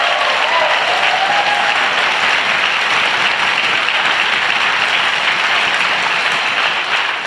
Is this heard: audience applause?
yes